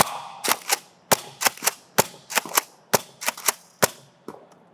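A NERF N-Series Shadow Storm blaster fires darts in quick succession: around fifteen sharp, close pops in an uneven rhythm, with brief quiet gaps between shots.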